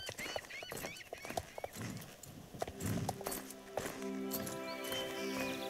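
Horse hooves clip-clop in a video game as a character rides off, a steady trotting patter with a brief whinny-like tone, mixed with game music and effects.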